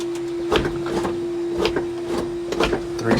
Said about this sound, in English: Fuel pump's going.